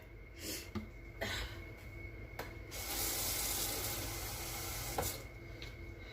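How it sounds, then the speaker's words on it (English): Water is poured into a cooking pot of stuffed sweet cabbage rolls, a steady rushing pour lasting a few seconds after some sharp knocks and clatter nearby. "More water in there."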